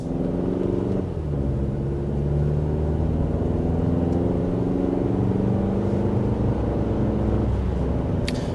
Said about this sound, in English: we are speeding up to our designated 55 miles per hour